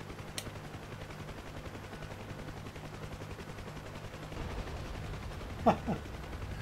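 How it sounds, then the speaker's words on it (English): Ka-50 helicopter cannon fire aimed at a house in a VR flight game, a low rumbling rattle of rounds that rises near the end into a couple of sharp, louder bursts over steady rotor drone. "I'll shoot at that house"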